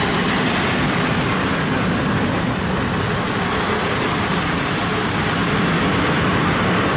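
A passenger train with TLK wagons rolls steadily past, close and loud, with a continuous rumble and a thin, sustained wheel squeal throughout.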